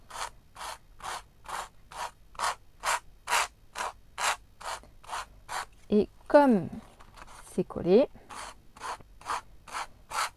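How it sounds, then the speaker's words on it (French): Rhythmic scraping strokes of a nail file rubbing the edge of a lightweight paper card repeat evenly, about two per second, close up, with someone briefly speaking in French midway. "passer notre lime sur le bord de notre carte."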